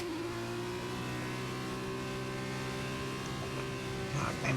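F2 race car engine in the F1 2021 racing game, a steady high-pitched drone held at sustained revs, loud and unbroken with no voices.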